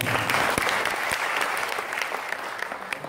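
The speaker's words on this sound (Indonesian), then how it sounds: "Tepuk tangan untuk sistem." Steady audience applause fills an indoor hall at a business marketing-plan presentation, continuous, moderately distant clapping from many hands with occasional sharper individual claps.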